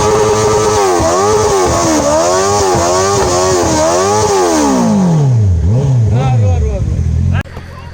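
Benelli and 650R superbikes revving nearby, loud engine notes rising and falling in repeated throttle blips before a long drop to idle, then an abrupt cut.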